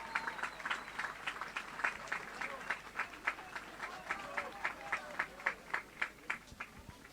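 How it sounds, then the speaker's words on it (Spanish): Rhythmic, evenly spaced clapping from a crowd at a mountain bike championship awards podium, fairly faint and distant, beating steadily throughout. "El aplauso, fuerte,"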